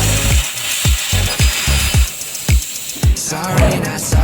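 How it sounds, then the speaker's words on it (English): Fiber laser beveling and cutting a 6 mm steel I-beam at a 30-degree bevel, with a steady machine hiss and whine broken by about eight sharp, regular clanking or popping thumps, close and loud. "Fiber laser cutting, I-beam style."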